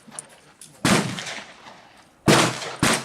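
A .38 Special revolver fires .35 Remington bullets outdoors at a target range, with three loud, sharp shots and decaying echoes, the last two coming about half a second apart.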